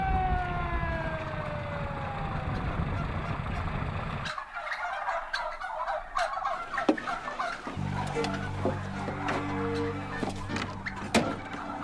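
Turkeys gobble repeatedly in a large flock on a truck being pulled over, with a steady rough background hum under the calls and a brief drop in the low rumble midway.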